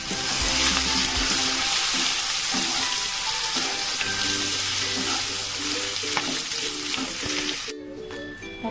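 Soybean chunks fry in a pan with black pepper and red chili powder, a dense continuous sizzle with stirring scrapes and some tonal clatter, close and loud, ending abruptly near the end.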